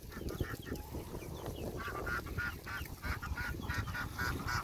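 Farmyard fowl, ducks and geese among chickens, honk and quack in a busy overlapping chorus close by, with steady rapid calls and no talking.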